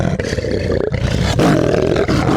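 Parent-reared lion roaring at a wildlife sanctuary, a loud, close, deep roar with throaty grunting pulses that swell again in the second half, no talk.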